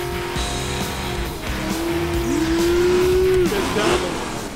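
A 1967 Chevrolet Camaro revs its engine on a drag strip pass, a loud rising and holding engine tone with some tire noise over steady track ambience.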